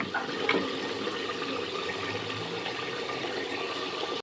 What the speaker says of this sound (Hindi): इसमें बॉयल आ गया है।